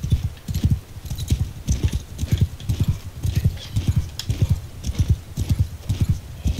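Cavalry horses gallop in a medieval battle game, hooves thudding in a fast, steady, rhythmic clip-clop that stays close and loud throughout, with battle ambience behind.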